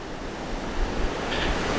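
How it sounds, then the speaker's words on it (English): Lake Michigan surf and wind at Indiana Dunes, a constant broadband roar of breaking waves mixed with gusty wind buffeting the microphone, heard steadily throughout. "The wind is really noisy, and of course the surf."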